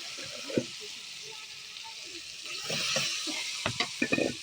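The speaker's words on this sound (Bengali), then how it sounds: "এই যে মশলা কষাইতেছি, তেল দিয়ে করে বাইশে আসছে" Spices frying in oil for a desi rooster and potato curry, a soft continuous sizzle with a few stirring scrapes and clinks, swelling louder midway.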